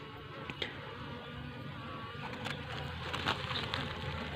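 A steady, dense buzzing of many honey bees on hive frames close by, continuous and fairly quiet, with small scrapes and knocks now and then.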